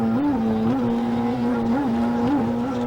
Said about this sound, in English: Engine just sounded terribly rough.